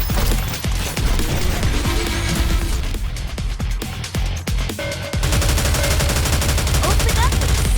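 Loud, dense gunfire and cannon blasts from a naval combat video game, with continuous rapid volleys and sharp booming impacts throughout, no pauses.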